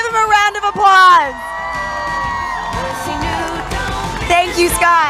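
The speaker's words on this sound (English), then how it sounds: "Give him a round of applause." Crowd at an outdoor rally near the Supreme Court on the Mississippi abortion law case cheers, whoops and shouts loudly throughout, with sustained applause beneath the voices.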